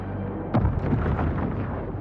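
An enemy ship explodes in Homeworld 3, a single deep boom with a crackling burst that rolls into a low rumbling tail under a muffled game soundscape.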